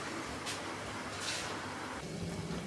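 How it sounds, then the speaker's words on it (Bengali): Onion fries in a pan, a steady close sizzle of broadband hiss with faint crackles rising and falling, no voices. "তো অলরেডি আমি পেঁয়াজটা খুব ভালো করে ফ্রাই করছি।"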